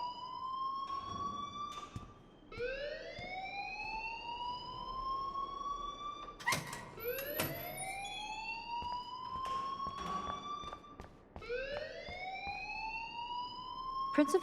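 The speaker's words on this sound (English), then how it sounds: "please turn off that alarm since that's your job" A fire alarm in the video game Life Is Strange wails on and off in long rising sweeps. It repeats steadily for the whole stretch, loud and close, with faint background sound underneath.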